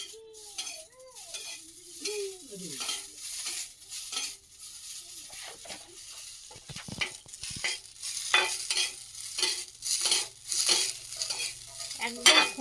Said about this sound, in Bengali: চাউমিন কিন্তু একটু ভাজা ভাজা হয়ে গেছে